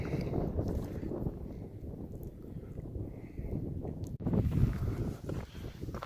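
Wind gusting at the base of Grays Peak on a high Colorado mountain hike, a steady broadband rush and buffeting against the microphone that swells louder near the end.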